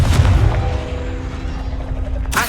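A Confringo fire-blast spell cast in Hogwarts Legacy on PC: a deep booming explosion up front, then a rumbling, ringing tail with a tonal hum, ending in a sharp burst.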